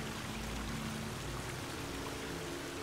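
Water flows continuously in The Forest video game as a steady, even rush of gurgling stream noise, moderately loud and unbroken, with no talking.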